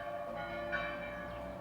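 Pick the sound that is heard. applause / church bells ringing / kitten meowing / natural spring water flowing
church bells ringing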